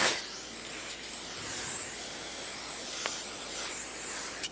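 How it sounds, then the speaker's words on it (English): Brake parts cleaner sprayed onto a new rear brake rotor for a 2018-2023 Subaru Crosstrek, a short sharp aerosol burst followed by a sustained soft hiss, close up with no talking. "So spray it down with a little bit of brake parts cleaner."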